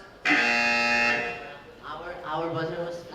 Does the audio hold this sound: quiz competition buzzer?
yes